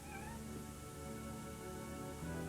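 A ten-day-old kitten gives a few faint, high, thin meows, with a soft lower cry near the end, over quiet indoor room tone.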